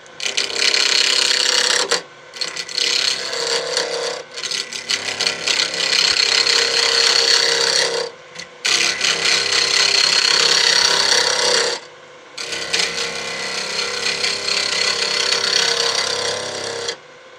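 A gouge cuts bog oak spinning on a wood lathe for a fountain pen blank, a loud continuous scraping hiss in long passes broken by three short pauses, close and steady throughout.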